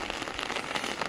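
Rain beats steadily on a surface near the overflowing Nallavagu dam after two days of heavy downpour, a dense, even, close patter with no voices.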